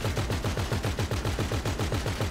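Rapid automatic gunfire in the video game Grand Theft Auto 5, a steady machine-gun-like stream of evenly spaced shots, loud and continuous with no voices over it.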